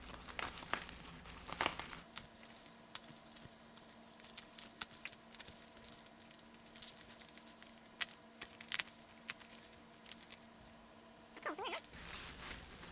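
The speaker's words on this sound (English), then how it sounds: "This should just unwrap, I think." Packaging around a new carbon steel Opinel knife is unwrapped, giving a continuous soft crinkle of plastic and paper with scattered louder rustles, close and fairly quiet, with no talking.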